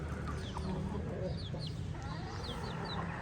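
Backyard chickens cluck nearby in short repeated calls over a steady outdoor background hum, faint overall, with some soft talk-like murmur underneath.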